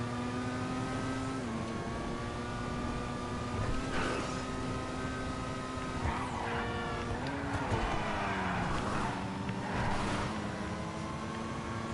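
A GTA V car engine hums with a smooth, electric-sounding tone and no loud exhaust, rising and dipping in pitch as it revs and shifts, with no talking.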